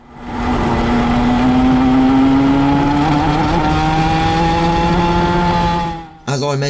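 A two-stroke Club100 go-kart engine screams at high revs while racing, its pitch climbing steadily through a gear-less run before backing off sharply near the end, close and loud, with no talk over it.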